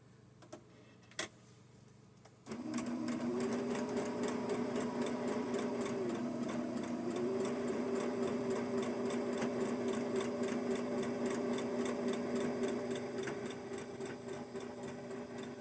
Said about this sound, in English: I'm just going to sew real quick these pieces around the edges